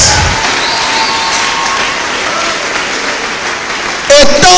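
Church congregation applauding during a sermon, a dense steady wash of clapping with crowd noise throughout, swelling louder near the end.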